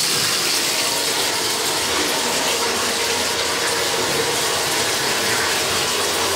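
A drain snake cable spins inside a toilet stack with the toilet removed, making a continuous rattling, clicking ratchet-like churn with a wash of running water behind it.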